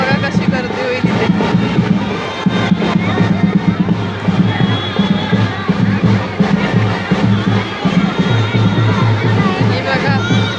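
A dense crowd packs a street during a Holi celebration at a Koliwada village, with steady loud hubbub, overlapping voices and rhythmic low drumming running throughout.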